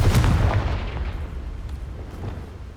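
A Confringo fire-blast spell in Hogwarts Legacy lands as a heavy booming explosion up front, then rumbles and crackles away into a fading low tail.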